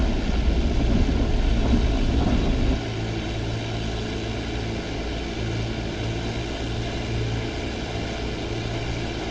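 A Fw 190 Dora 9 fighter's piston engine roaring at full throttle on takeoff in DCS World, a loud continuous drone that eases to a slightly lower, steady level partway through.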